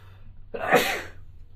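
A single sharp sneeze bursts out close by, rising quickly and trailing off within about half a second against a quiet low hum.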